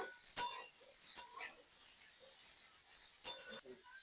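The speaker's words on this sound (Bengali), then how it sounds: "পুঁই মিটুরিটা নিয়ে ঢাকা দিয়ে দিই" A lid is set on a cooking pot of Malabar spinach berries, giving a few light, sharp clinks spaced apart, with faint rattles between them in a quiet kitchen.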